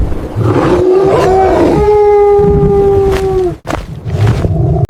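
A lion's roar sound effect for an animated story: one loud, close, drawn-out tonal roar lasting about three seconds, then a brief drop and low rumbling growl.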